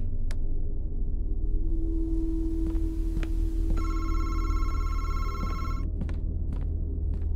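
A telephone rings in the horror video game MADISON, a bright electronic trill repeating over a low, steady ambient hum, with a few sharp clicks before and after the ringing.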